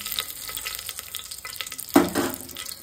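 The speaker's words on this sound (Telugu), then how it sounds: "ఫస్ట్ ఆయిల్ వేసుకొని అందులోకి వేడెక్కిన తర్వాత చెక్క లవంగ బిర్యానీ ఆకు వేసుకొని మిక్స్ చేసుకోవాలి." Cinnamon, cloves and bay leaf sizzle in hot oil for chicken biryani, with a steady close frying hiss and occasional stirring scrapes, plus one louder clatter near the end.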